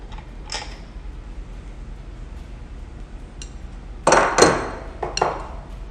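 A bolt being loosened with a 24mm socket, heard as a quiet creaking ratchet at first, then a cluster of sharp metallic clanks and clinks near the end, close and fairly loud.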